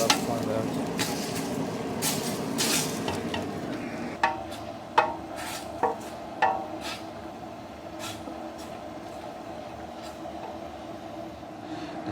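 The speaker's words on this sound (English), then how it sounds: "Scrape that bottom, get all that fun out." A utensil scrapes the bottom of a pot of turkey stock, giving a steady grinding rasp broken by several sharp knocks and clacks in the middle, with a voice faintly underneath at times.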